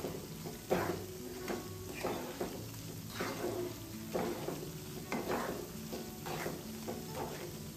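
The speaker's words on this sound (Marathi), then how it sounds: "व्यवस्थित आता आपण हे छान असं परतून घ्यायचं" Semolina and banana being sautéed over medium heat for a puja offering, a soft, steady sizzle broken by rhythmic scraping strokes of a spoon against the pan, close and fairly quiet.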